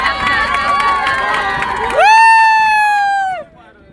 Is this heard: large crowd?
yes